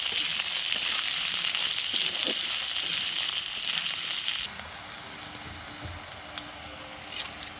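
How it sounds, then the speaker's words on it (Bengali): Loud hissing sizzle of onions frying in a hot pan that suddenly drops to a quieter simmer halfway, with a few faint clinks. "পেঁয়াজটা ভেজে নেব"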